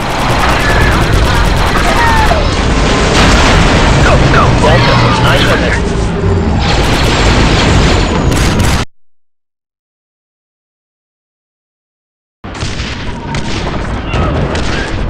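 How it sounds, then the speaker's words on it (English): Explosive charge detonating amid heavy gunfire in the Star Wars Republic Commando video game, loud dense booms and rapid blaster shots with voices over them, then a sudden silence before the combat noise resumes. "The charge is set and ready to detonate."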